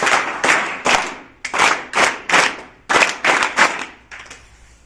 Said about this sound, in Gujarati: હવે આપણે 3 તાળીથી એમનું સન્માન કરીએ